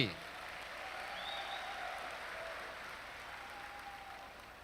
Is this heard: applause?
yes